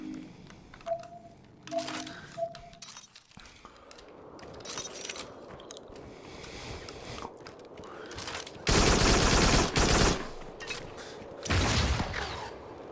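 Video game gunfire: a few scattered shots and mechanical clicks early, then loud sustained bursts of automatic fire later on, with a second shorter burst near the end.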